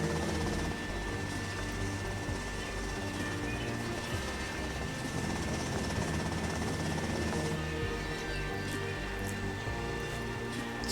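Helicopter rotor noise from the Grand Theft Auto Vice City game, a steady loud broadband whir with low thumping that runs without a break from start to finish.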